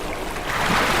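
Gentle burbling water at a Japanese onsen hot spring, a steady close wash of trickling flow that swells slightly louder toward the end, with no voices.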